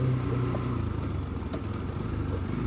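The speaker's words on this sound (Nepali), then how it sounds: "फस्यो अब गाडी फस्यो" A vehicle engine strains and drones steadily, bogged down on a wet, rainy mountain road between Beni and Mustang in Nepal, a continuous low rumble with no pauses.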